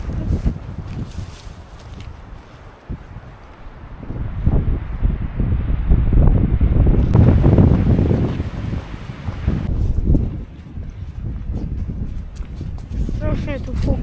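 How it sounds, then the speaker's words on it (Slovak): Strong wind gusts roar across an open field near Stupava and Borinka, a loud continuous rumble that swells and fades, with people talking beneath it. "Strašne tu fúka, ale tam na tom poli brutálne."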